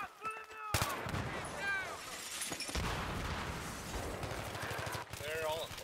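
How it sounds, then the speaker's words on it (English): Rapid automatic gunfire in a Battlefield 3 match plays in close, dense bursts through most of the clip, under urgent team voice chat. "I'm trying to get out of the shooting."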